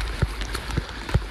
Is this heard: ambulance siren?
no